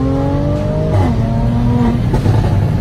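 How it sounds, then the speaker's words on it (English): Mercedes-Benz W205 C450 AMG engine fitted with Armytrix downpipes and a stage 2 DME tune, loud and close, revving with a rising then falling pitch and a sharp drop partway through, alone with no talk. "This is my C450 AMG. Eurofed installed the Armytrix downpipes and stage 2 DME tune."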